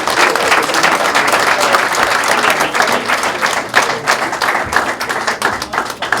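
Dense, loud applause from an audience at a Shabba Ranks heritage award ceremony in November 2021, steady crowd clapping with scattered sharper claps filling the whole span.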